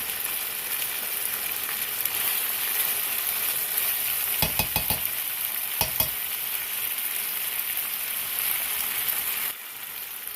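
Ground beef bulgogi fries in a pan with a steady close sizzle, broken by a few sharp clacks of a utensil against the pan midway.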